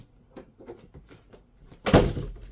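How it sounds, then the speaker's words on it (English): An indoor door is pushed shut with a single solid thud near the end, after faint shuffling and handling noises nearby, with no voices. "Hold on, let me just shut the door."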